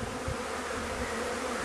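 Honey bees swarm and buzz around a Langstroth hive during package installation, a dense, steady droning hum that fills the whole moment without pause.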